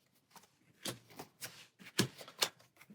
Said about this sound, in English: So we'll give those cards a shuffle.